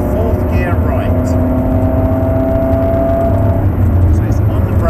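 A Ferrari engine at Silverstone circuit pulling hard through the gears, loud and close from inside the car with a rising whine and steady roar, someone talking over it.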